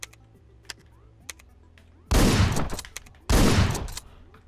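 Two loud, booming shotgun blasts in the video game Hotline Miami, about a second apart, each with a long noisy tail, following a few light clicks and thuds.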